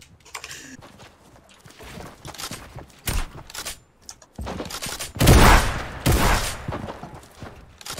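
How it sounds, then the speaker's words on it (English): Gunfire rattles in Fortnite's John Wick mode, with bursts of shots at mid distance. The loudest volley comes in the second half, mixed with scattered clatter and movement sounds. "Is that us shooting?"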